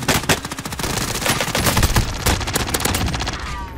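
Rapid automatic gunfire rattles nearly nonstop in Warzone, dense bursts of loud shots striking toward the player, close and harsh with almost no gaps.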